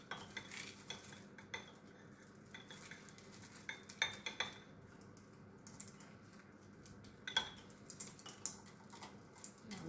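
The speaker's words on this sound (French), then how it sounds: "Vous venez mélanger pour faire fondre votre chocolat." Chocolate is stirred in a bowl to melt it, with a utensil clinking and scraping lightly and irregularly against the sides. The sound is faint and close, with no talking.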